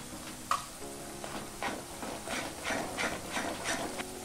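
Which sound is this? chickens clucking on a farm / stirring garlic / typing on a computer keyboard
stirring garlic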